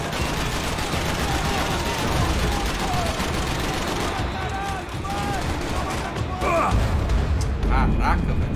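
Rapid gunfire in a shooter video game, dense continuous bursts of automatic shots with heavy booms, loud throughout with excited voices talking over it.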